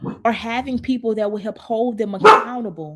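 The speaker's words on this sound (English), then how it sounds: "that's my dog" A pet dog barks briefly in the background while a person keeps talking; one sharp bark rises over the steady speech near the end.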